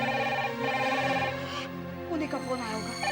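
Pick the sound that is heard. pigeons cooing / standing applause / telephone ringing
telephone ringing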